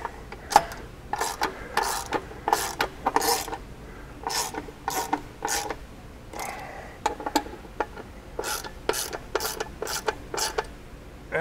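A ratchet tightens skid plate bolts on a 2019 Maverick Trail side-by-side, with rapid repeated bursts of sharp metallic clicking in an uneven rhythm, close and clear, separated by short pauses.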